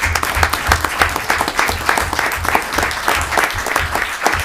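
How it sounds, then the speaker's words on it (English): An audience at a Black History Month celebration applauds itself with steady, dense clapping that fills the room, continuous and fairly loud throughout. "Give yourselves a round of applause."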